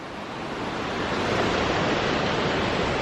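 A mountain river rushes beside a hiking path in the mountains of Bulgaria on the way to Boyana Waterfall, a loud, unbroken roar of flowing water that swells slightly at the start and then holds steady.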